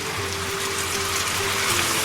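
Boiled water, about two cups, poured into a pan of lamb bhuna, a continuous close gushing splash that stays even throughout.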